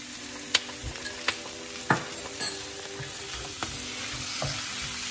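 Dragon chicken fries in a pan with soy sauce, a steady sizzle broken by a few sharp spoon knocks and scrapes as it is stirred, close up and without speech.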